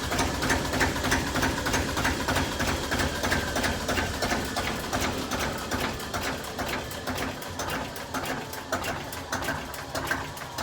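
Royal Navy boat's engine running steadily, a dense mechanical rattle and clatter with rapid rhythmic ticking, loud and close throughout with no talking.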